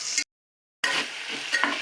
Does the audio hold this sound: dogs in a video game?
no